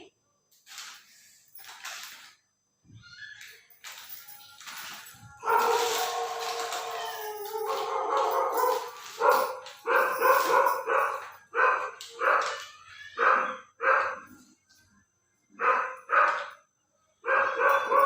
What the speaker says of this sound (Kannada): ಹೊರಗಡೆ ನಾಯಿ ಹೋಗ್ಬೇಕಂತಿದ್ರೆ ಅದೊಂದು ಸೌಂಡ್ ಜಾಸ್ತಿ ಕೇಳಾಗತ್ತೈತಿ